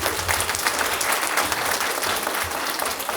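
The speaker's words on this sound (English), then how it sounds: "let's give a big round of applause." Sustained audience applause at a talk on men's mental wellness, a dense, steady wash of many hands clapping at close range with no voices over it.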